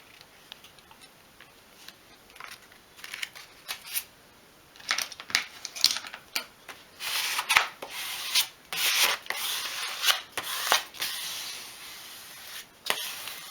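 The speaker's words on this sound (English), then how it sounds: "that's now pressing it flat using a squeegee tool" A squeegee tool presses low-tack application tape flat on a 1/12 scale model shop project, giving intermittent close rubbing and scraping strokes in irregular bursts that grow busier toward the end, with no talk.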